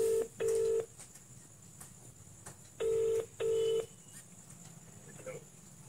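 A mobile phone dials a call with four short, loud keypad tones, two quick ones then two more after a pause, over a quiet indoor background.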